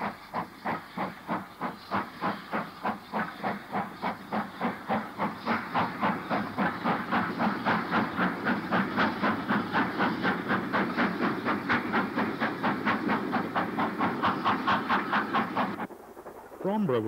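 Steam locomotive 2597 departs north for Birkenhead on the Wirral, its loud rhythmic exhaust beats quickening steadily with steam hiss and wheel noise close by, then cutting off near the end.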